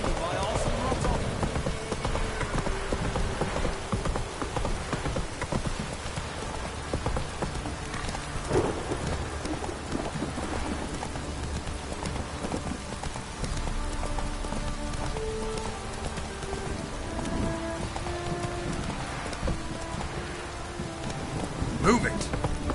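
Steady rain pours throughout a Witcher 3 game scene, a dense constant wash with low rumbles that may be thunder, while faint game voices and other noises surface now and then.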